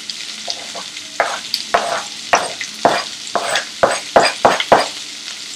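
Chopped onion, curry leaves and green chili fry in hot oil, a steady close sizzle broken by a series of sharp spatula scrapes and clinks against the pan, with no voices.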